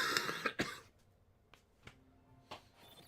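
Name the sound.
coughing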